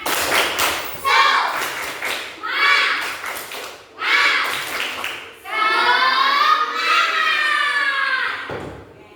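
Schoolchildren in a classroom doing a rhythmic 'tepuk semangat' clapping chant, bursts of claps alternating with children's chanting voices, loud and close, with a sustained sung phrase at the end.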